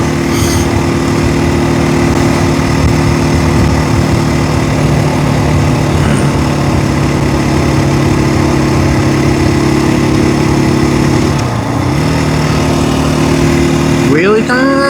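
KTM 500 motorcycle engine running steadily throughout a ride, a loud continuous droning hum with a steady low tone, then a rising rev near the end; wind noise rushes over it.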